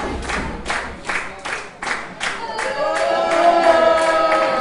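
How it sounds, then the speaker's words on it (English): Wrestling crowd at a grudge match, rhythmic claps or stomps for the first few seconds, then a sustained loud jeering roar of booing and shouting that swells and holds to the end. "Crowd booing Tighe"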